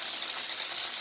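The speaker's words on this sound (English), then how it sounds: "we're just gonna splash some white wine. Not much. You hear the sizzle?" A splash of white wine hisses in a hot pan with seared salmon, giving a brief, bright, steady sizzle with no voices.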